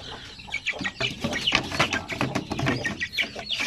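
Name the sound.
clucking of pure Sampin breed chickens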